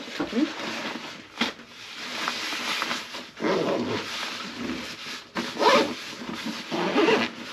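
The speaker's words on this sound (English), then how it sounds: "So I can easily stuff this coat back in and zip it up." A coat is stuffed into a business travel bag and zipped shut: rustling fabric and rubbing bursts, then several quick close-up zipper pulls, with no one talking.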